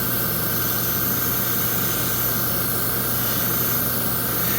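Steady hiss of lacquer thinner cleaner sprayed from a can onto a rag, continuous and close, with no talk over it.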